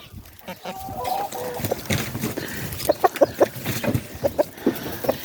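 Chickens out in fresh snow give short clucks and soft calls, some near and some further off, over a low background, with brief human voice traces.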